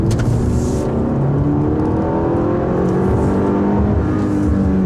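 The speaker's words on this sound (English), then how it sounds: "So what you're hearing is actually the engine." A 2016 Audi A6 with a 2.0-liter four-cylinder engine pulls hard uphill through a canyon road, its engine note droning and climbing steadily and loudly from start to finish, with no one talking.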